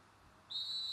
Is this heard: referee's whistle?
yes